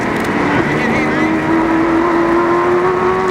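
Race cars at the 1993 Sandown 500 roar along steadily with a sustained engine drone and rising pitch, loud and close, with speech over the engines.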